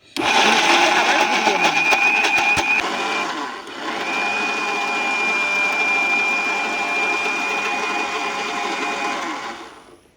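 A mixer grinder whirs loudly while grinding peanuts with water into a paste, a steady high motor whine that briefly dips around the middle and then runs on evenly before winding down at the end.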